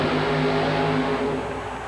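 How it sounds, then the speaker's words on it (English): Roar of a 557 cubic inch Ford-powered Thunderbird funny car making a drag run at the Tallahassee track, a loud, dense, sustained engine blast that fades slightly at the end. "557 cubic inch Ford-powered Thunderbird funny car"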